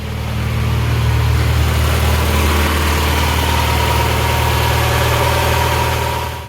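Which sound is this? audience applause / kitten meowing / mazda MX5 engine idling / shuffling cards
mazda MX5 engine idling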